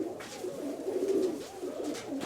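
Pigeons, including a female, cooing continuously from close by in a loft of fancy show pigeons, with low rolling murmurs and a few faint sounds in the background.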